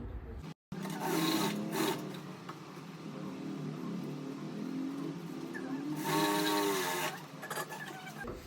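A sewing machine runs a straight seam on a lined blouse, giving a continuous mechanical whir that briefly cuts out near the start and swells louder for a stretch toward the end.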